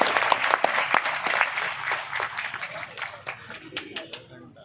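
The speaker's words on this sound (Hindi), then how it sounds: "माता जी से एक बार जोरदार तालियां" A crowd claps loudly to welcome Mata ji at a Jagannath installation-day gathering at the Gupteshwar ashram: dense, sustained applause that gradually thins and fades toward the end.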